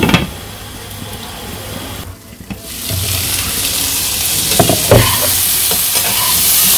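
Spiced vegetables and potatoes for a village-style vegetarian dish being sautéed in a pan: a loud, continuous sizzle with a few stirring clatters, close by and without speech.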